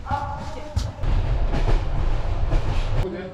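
Rumble and rattle inside a moving train carriage in Bulgaria, with low steady rolling noise, irregular clunks and thumps from the wheels and car body, loud and continuous with no talk.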